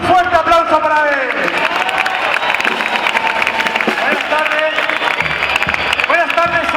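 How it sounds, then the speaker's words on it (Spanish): Loud, sustained applause and cheering from a crowd at the Fiestas del Pilar opening proclamation in Zaragoza, a dense clapping wash with voices over it throughout. "Adelante Arturo, un fuerte aplauso para él."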